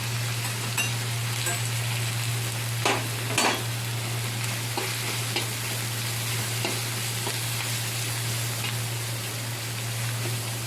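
Chopped tomatoes and cumin powder frying in a pan for okra curry, a loud, steady hiss with a few stirring clatters and a low background hum.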